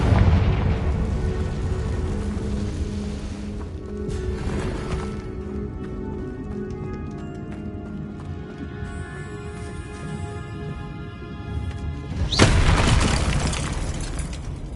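A Confringo blasting spell in Hogwarts Legacy sets off a loud, deep booming explosion at the start, followed by a rumbling tail with lighter debris crackles and a second burst near the end.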